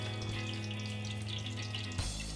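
Steady crackling sizzle of skirt steak searing in a hot pan, quiet and continuous, with a low hum underneath and no talking.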